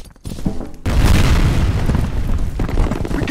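A grenade explodes in the F.E.A.R. Combat capture-the-flag game on the Campus map: a sudden loud boom after a brief quiet lead-in, followed by a sustained roaring, crackling blast that lingers at full strength to the end.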